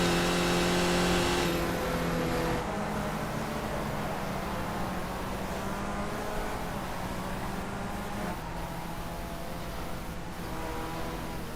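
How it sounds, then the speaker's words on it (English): Race cars crossing the finish line in a Formula-style racing video game, a continuous engine drone that starts louder with a revving whine and settles into a steady mid-level hum with faint passing tones. "the final cars coming across the line"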